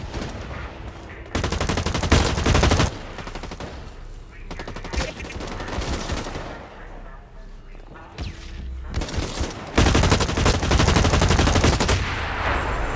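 Video game gunfire ends in a headshot kill: loud bursts of automatic fire with pauses between them, sharp and close, repeating across the stretch.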